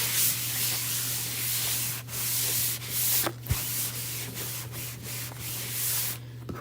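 Steady rubbing and scrubbing of chalk paste off a silk screen at a sink, a continuous close abrasive hiss with a few brief pauses and knocks, over a low constant hum.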